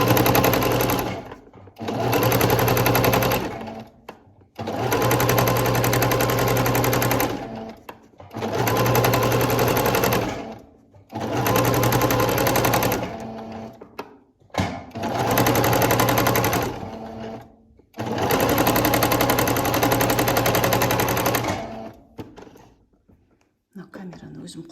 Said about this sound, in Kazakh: Машинкаға сырып атқанымды осылай көрсетіп өтейін сіздерге.